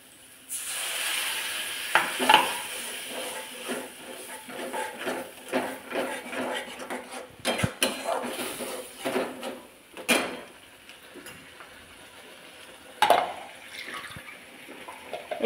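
Water is poured into a pan of simple egg curry, giving a bubbling sizzle with irregular clatters and scraping stirs that come and go at close range, without talk.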